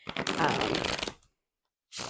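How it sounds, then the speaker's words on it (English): A deck of 60 tarot-size oracle cards on thick card stock being riffled and shuffled by hand: a quick, close fluttering burst lasting about a second, then silence before the shuffling briefly starts again. "they're going to shuffle really easily for me"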